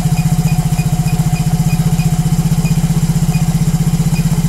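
A Yamaha motorcycle engine idles close by with a steady, even putter as its RPM settles back to normal after a fuel and CO mixture adjustment; no one speaks over it.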